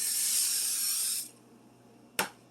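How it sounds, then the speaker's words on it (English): A can of butter spray gives a steady hiss for about a second onto a calzone on foil, then quiet, followed by one short, sharp burst of spray. "Spray your calzone with your butter spray,"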